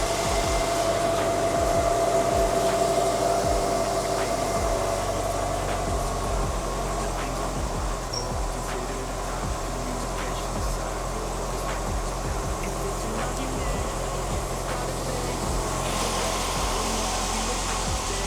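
A repaired car engine idles steadily after a PCV valve fix, a continuous low mechanical hum with a faint whine, close and even throughout with no talk.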